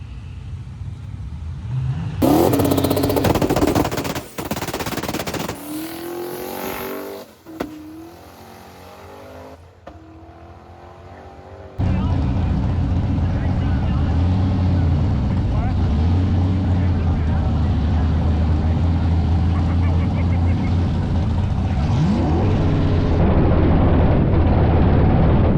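A drag race car launching down the track on a prep day, its engine roaring loud and sustained as it pulls through the gears, with voices talking over the first part before the engine note takes over.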